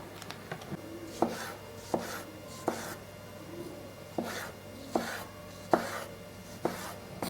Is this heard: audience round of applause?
no